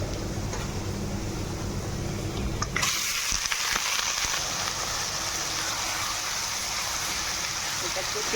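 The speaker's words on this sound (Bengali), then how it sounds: "এবার ধুয়ে রাখা চিকেনটা দিয়ে দেবো।" Washed chicken goes into hot oil with reddened fried onions in a handi pot for biryani; a steady background hiss suddenly swells into a louder, brighter sizzle and stays loud.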